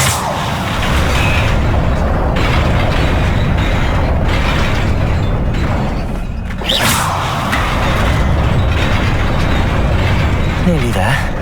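An Incendio fire spell cast in the Hogwarts Legacy video game: a loud, dense whooshing roar of flame and explosive bursts amid continuous battle noise, with a sharp flare near the middle and voices mixed faintly underneath.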